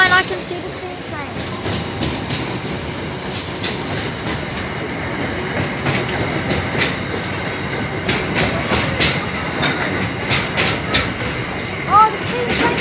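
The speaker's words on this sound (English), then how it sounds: "Oh, the steam train is coming." A steam-hauled picnic train approaching on the railway at Unanderra, New South Wales, its loud, continuous rumble and rhythmic clatter drawing near, with a brief squeal toward the end.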